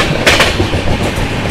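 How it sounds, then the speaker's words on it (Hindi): Wheels of the Duranto Express (Secunderabad to Hazrat Nizamuddin) running on the track in the morning, a loud close rolling rumble with a couple of quick clacks over rail joints. "सुबह सुबह का ट्रैक साउंड"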